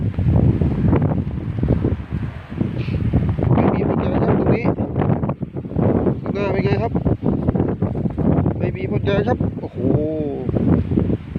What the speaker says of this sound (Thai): ลมแรงนะดูครับผมวันนี้